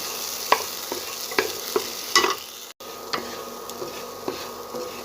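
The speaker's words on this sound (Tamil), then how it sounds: "ஒரு 3 செகண்ட் அந்த Schezwan sauce நான் நல்லா வதக்கிட்டேங்க" Onion, garlic and Schezwan sauce sauté in a pan, a soft sizzle under repeated scraping and tapping strokes from a spatula, with a brief cut in the sound partway through.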